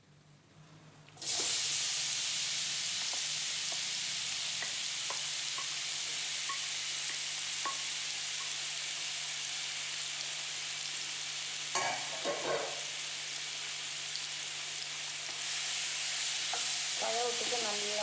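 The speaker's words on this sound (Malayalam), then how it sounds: "പഴം ഇട്ടിട്ട് നല്ലോണം ഇളക്കി കൊടുക്കും" Banana pieces frying and being stirred in a pan while cooking pazham ada, a steady loud sizzle running throughout with occasional scraping clicks of the spoon, no talking.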